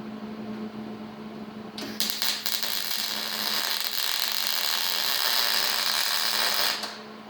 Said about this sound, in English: I'm going to put a couple of welds up here.